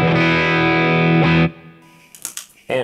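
Electric guitar played straight into the amp with no Plexitone low-gain overdrive pedal, a loud sustained chord ringing for about 1.5 seconds, then quieter picked notes and short scrapes, with no talking.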